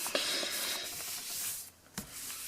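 A block rubbed over paper to smooth it down onto card in a craft project makes soft, dry scuffing strokes, close and fairly quiet, with a brief pause and a sharper scrape near the end.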